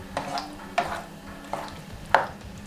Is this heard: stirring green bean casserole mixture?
yes